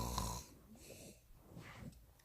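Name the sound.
reader imitating loud snoring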